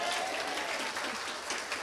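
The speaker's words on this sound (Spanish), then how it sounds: "Aplauso para Carlos." A brief burst of steady clapping from a small group fills the moment, with a faint voice underneath.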